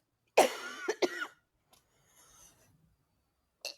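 A person coughs twice in quick succession, close and fairly loud, followed by faint rustling and one brief sharp sniff or throat sound at the end.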